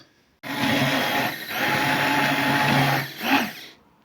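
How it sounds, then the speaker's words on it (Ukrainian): An immersion blender purees red lentil cream soup with melted cheese, a loud whirring motor that starts abruptly, holds for about three seconds with brief dips as the blade moves through the thick soup, then cuts off. "Беремо блендер погрузний і перебиваємо все в однорідну масу у наш крем-суп."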